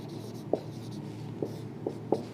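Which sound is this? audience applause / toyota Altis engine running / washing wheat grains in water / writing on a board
writing on a board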